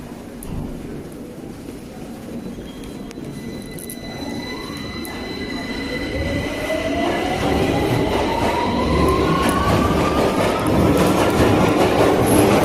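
A London Underground Piccadilly line train rumbles through a tunnel, its wheels screeching and whining in rising tones as it grows louder and closer, with no talking.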